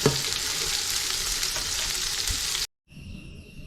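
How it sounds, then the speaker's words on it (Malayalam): Onions for vegetable biryani fry in oil with a dense, steady sizzle that cuts off abruptly. After a brief silence, a quieter, thinner frying hiss follows. "സോറി വഴറ്റിയെടുക്കല്ല വറുത്തെടുക്കാം"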